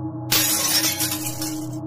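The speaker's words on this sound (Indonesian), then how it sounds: "jendela sebelah kiri bus pecah" A bus window shatters as a horror-story sound effect: a sudden loud crash of breaking glass followed by tinkling shards that fade over a second and a half, with no voice over it.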